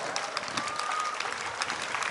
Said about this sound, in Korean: 저에게 응원의 경려의 박수를 쳐주지 않겠습니까?